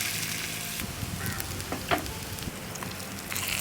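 Salted, squeezed-dry potato slices frying in plenty of oil in a pan at a campsite, a steady soft sizzle with occasional crackles and stirring clinks.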